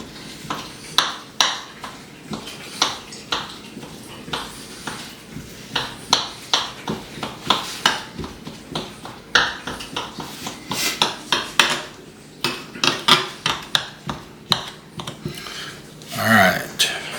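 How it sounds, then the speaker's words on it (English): Knife chopping cooked, stringy pulled pork on a board: a long run of quick, irregular thuds and clacks, close and distinct, with a few louder knocks and faint clinks of utensils. "you just kind of want to chop it up a little bit, especially this pork because you know it's stringy"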